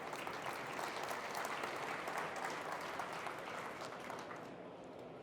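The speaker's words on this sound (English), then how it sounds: "I think a round of applause, because that is absolutely fantastic." Audience applause at a Cisco keynote during a 2016 communications expo, a full, steady roar of many hands clapping that eases off slightly toward the end, with no speech over it.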